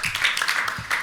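An audience at a French ceremony applauds, steady overlapping clapping heard close and moderately loud for a brief moment, with a little voice underneath.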